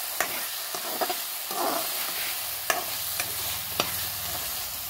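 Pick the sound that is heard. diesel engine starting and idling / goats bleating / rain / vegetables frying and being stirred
vegetables frying and being stirred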